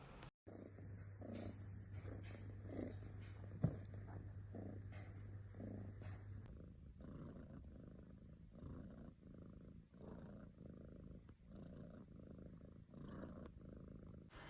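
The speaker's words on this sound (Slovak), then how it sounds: "Ďalšie je pradenie." A cat purrs close up in a quiet setting, a steady low rumbling pulsing in regular breaths for over fourteen seconds, alone with no talking.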